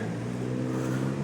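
A car engine drones loudly with a deep, rumbling revving tone, steady and close, brief.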